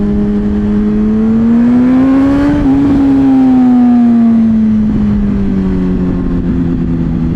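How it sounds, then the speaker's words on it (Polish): A loud motorcycle exhaust revs up and then winds back down in a long sweeping roar, close and continuous throughout. "kupujcie głośne wydechy, bo jak widzicie każdy się rozjeżdża"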